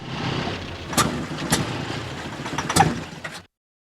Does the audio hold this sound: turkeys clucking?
no